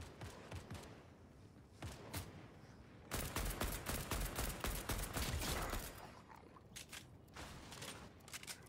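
In the video game Fortnite, gunfire comes in bursts of sharp, rapid shots. A heavy, sustained volley sits in the middle, and scattered single reports are heard before and after it.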